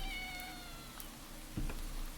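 A cat gives a faint, drawn-out meow that slides down in pitch, followed by a short quieter call, over a soft background hum on a street.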